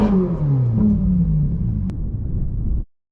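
A wrecked, rebuilt Ferrari 458's engine revving up, loud and close, with pitch sweeping down as revs fall, then cutting off abruptly into silence.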